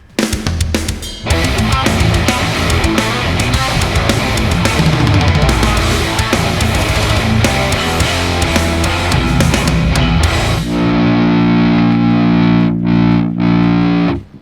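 A distorted electric guitar with old, dead strings plays loud, dense riffing through an amp, then ends on a ringing sustained chord that fades with a few muted stops.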